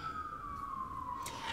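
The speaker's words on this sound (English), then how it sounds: "there's a bunch of sirens behind me now." A siren wails at a distance, one long tone gliding slowly downward, fairly faint over a low background hum.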